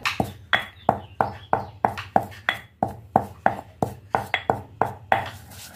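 Cumin seeds are pounded by hand for a chicken fry: about twenty sharp, close thuds land at a steady, slightly uneven rhythm, each with a brief ringing knock and no talk over it.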